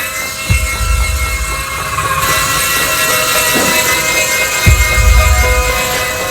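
Steady whirring rotor drone of a toy helicopter flying indoors at home, loud and continuous with a couple of low thumps, as if bumping or passing close by.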